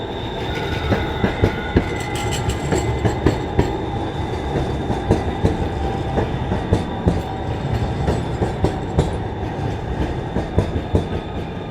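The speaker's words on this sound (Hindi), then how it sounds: "ये वाइड ट्रेन है जो हर सिग्नल पे रुकती है।" A train passing in Houston, a loud, steady rumble of wheels on rails with rhythmic clickety-clack beats and faint high squeals, close by throughout.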